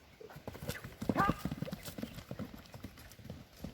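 Racing horse galloping over open ground on a long ride, its quick, steady clip-clop hoofbeats close and continuous, with a brief whinny-like note and faint voices nearby.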